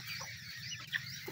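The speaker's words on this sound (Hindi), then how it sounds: "ये जो असील मुर्गियाँ ही हैं" Aseel chickens cluck in a couple of faint, brief notes over low background noise.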